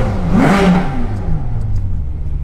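A Ferrari engine revs up loudly from inside the car, rising to a strong peak and then settling into a steadier, lower drone that stays present throughout.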